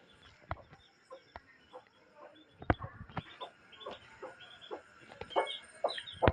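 A farm hen clucks while leading her young chicks out to forage, short soft clucks and high peeps scattered across the moment, fairly close and without talk.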